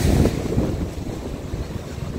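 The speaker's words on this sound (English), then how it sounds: "the waves come really fast all the way up here." Ocean waves rush up Chaweng Beach on Samui, Thailand, as big surf rolls in fast; a steady broadband roar with wind buffeting the microphone, loudest at the start and continuing without a break.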